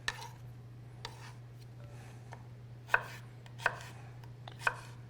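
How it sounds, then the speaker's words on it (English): A knife chops food on a cutting board in a quiet kitchen, with a handful of sharp, isolated knocks spaced about a second apart over a steady low hum. "Give it a quick chop."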